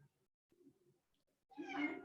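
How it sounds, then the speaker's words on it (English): A house cat gives a faint, drawn-out meow near the end, following a couple of soft low sounds and near silence. "Here, bring the cat over."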